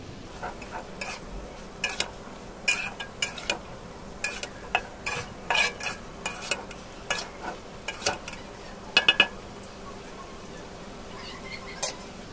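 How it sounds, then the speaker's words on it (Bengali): Spoon scraping and knocking against a pot while lentil and potato curry with jackfruit seeds sautés, irregular clinks and scrapes over a faint sizzle. "এখন কষাবো 5 মিনিট মতো।"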